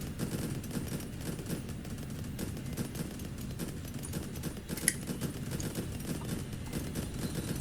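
Cannon towers firing in the tower defense game Infinitode 2, a dense continuous rattle of rapid small shots layered over game sound, steady and moderately loud throughout with no talk.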